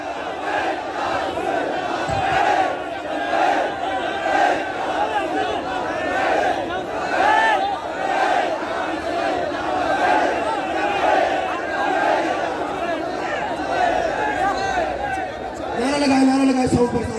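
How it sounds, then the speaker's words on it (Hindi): A large crowd at a Tehreek-e-Labbaik religious rally in Multan chants slogans together in loud rhythmic waves, with dense massed voices sustained throughout and a brief louder shout near the end. "नारा लगाए साउंड पर नारा लगाए।"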